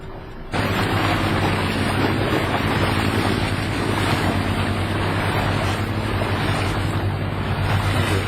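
A boat heading out from Ketchikan, Alaska, toward the fuel dock, its engine and hull rumbling steadily through the water with loud wind buffeting the microphone, constant and close after a brief quieter start.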